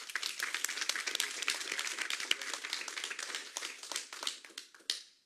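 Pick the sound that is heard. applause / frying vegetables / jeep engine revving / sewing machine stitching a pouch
applause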